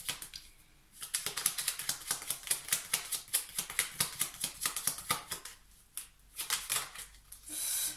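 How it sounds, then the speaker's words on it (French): Tarot cards shuffled by hand at close range, a long run of rapid crisp riffling flutters and slaps with brief pauses, loud and alone. "j'aime mélanger mes cartes tranquillement"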